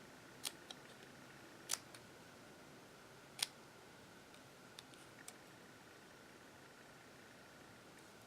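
Scissors snip through card paper in a few sharp, quiet cuts spaced irregularly apart, close up, with faint ticks between them in an otherwise hushed room.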